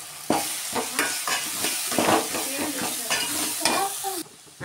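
Tomato and onion fry in a pan for a fish curry, a steady close sizzle broken by repeated scraping stirs, with no talk.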